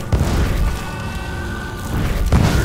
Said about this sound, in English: Thankfully, Fireball has Splash.